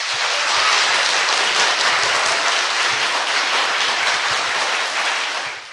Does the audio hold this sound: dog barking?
no